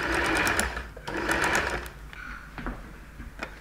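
A sewing machine runs in close bursts while stitching bias binding onto a fabric seam, loud rapid needle chatter starting and stopping with short clicks between runs, no speech.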